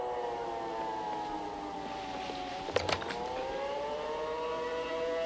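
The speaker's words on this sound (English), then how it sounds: "You heard the siren over in San Francisco." A long wailing prison-island siren drones steadily, its tone slowly bending, with a brief clatter of sharp knocks partway through.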